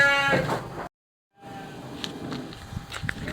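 Sheep bleat repeatedly inside a pen at a contest-class sheep farm in Bandungan, with loud close calls at first, a brief silent gap, then scattered fainter bleats and light shuffling against background noise.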